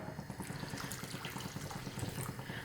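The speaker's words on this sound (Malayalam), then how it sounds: "ഞാനിപ്പോൾ ചൂടുവെള്ളമാണ് ഒഴിച്ചു കൊടുക്കണത്" Hot water poured into a pot of Kerala-style green peas curry, a steady close splashing and trickling of liquid that runs throughout at moderate level with no talking.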